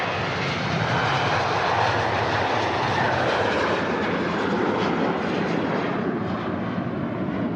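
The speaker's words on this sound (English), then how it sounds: "Ryanair 737-800 headed" Ryanair Boeing 737-800 jet engines at Manchester Airport, a loud, sustained broadband roar that stays steady and fades slightly toward the end.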